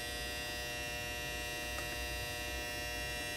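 A clothes dryer running indoors, heard as a steady electrical hum with a faint higher whine, constant and even throughout, with no voices.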